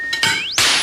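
Drinking glasses clink together in a toast, a couple of bright ringing chimes close by, with a sustained glassy tone hanging after the strike.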